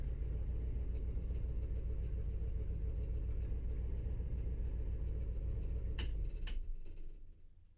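An old Ford engine idles with a low, steady rumble close by, then winds down and cuts off near the end, with a brief clatter just before it stops.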